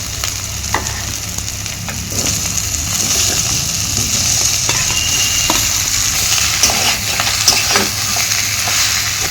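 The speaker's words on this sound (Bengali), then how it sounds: "এখন আলু এঁচুড় সবটাই আমি মশলার সাথে ভালো করে কষিয়ে নেব।" Jackfruit and fried potato are stirred and fried in a spice paste in a pan, with a loud, continuous sizzle and frequent scraping stirs throughout, no voices.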